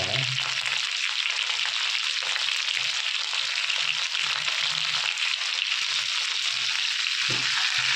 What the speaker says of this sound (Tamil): வெங்காயம் பாருங்கள், நல்லா வதக்கிறேன்.